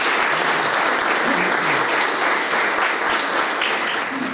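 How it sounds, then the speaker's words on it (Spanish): Audience at an inauguration ceremony for a CECLA classroom extension applauding Viviana Urmechea, a full, continuous burst of clapping with no talk over it. "vamos a redoblar los aplausos para Viviana Urmechea"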